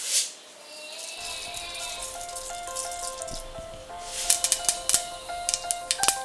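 Mustard seeds crackle and pop in hot oil in a pan of tempering spices (urad dal, fenugreek, fennel) for a salmon fish curry, with sharp irregular spits growing denser and louder toward the end, no talking.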